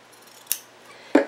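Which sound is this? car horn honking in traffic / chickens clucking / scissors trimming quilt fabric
scissors trimming quilt fabric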